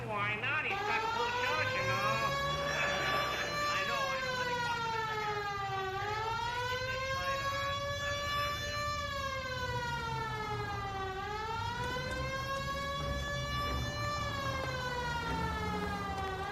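A wailing police siren in the video game L.A. Noire rises and falls in long, slow sweeps, loud and continuous. Voices talk over it throughout.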